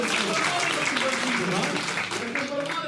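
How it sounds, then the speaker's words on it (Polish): Audience applause at a stand-up comedy show in Kozłów, a steady wash of clapping that holds for about three seconds with speech mixed in. "Dajcie brawa przyjacielowi."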